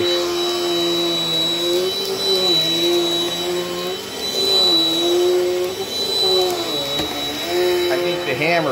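A Dirt Devil Dynamite Plus vacuum cleaner, its height adjustment fixed, runs steadily and loudly up close with a constant motor whine whose pitch wavers slightly as it moves, with no talking.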